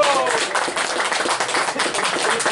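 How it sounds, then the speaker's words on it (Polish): Applause at an amateur football match in Poland, Ruch Izbica against Bug Hanna, greeting a player entering the pitch: a short burst of dense, close clapping from the crowd. "Brawa dla niego!"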